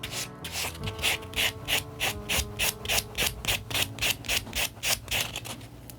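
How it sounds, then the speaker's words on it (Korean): An artificial nail tip is sanded with a nail file in quick, even back-and-forth strokes, a close rhythmic rasping repeated about a dozen times during a natural tip with wrap nail-art procedure. "자, 전체 샌딩. 샌딩 하실 때도 사이드 쪽까지 꼼꼼하게."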